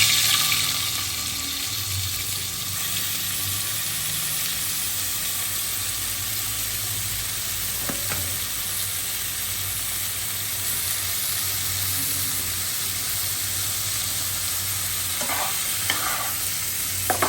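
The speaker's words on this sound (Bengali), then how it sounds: "আর এখানে আমি অনেক ডাঁটাটা একটু হালকা ভাজি করে নিব" Vegetable stems frying lightly in oil in a pan after tilapia fish was fried, a constant close sizzling hiss lasting many seconds with occasional faint clinks of stirring.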